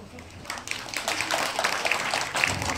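Guests at a traditional Korean wedding ceremony applaud as the groom bows, a dense, steady patter of many hands that swells slightly and carries on throughout.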